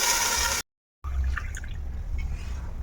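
Water from a glass splashes and trickles into a cooking pot set up for rice, a short pour cut by a brief gap before more liquid runs in, close and steady.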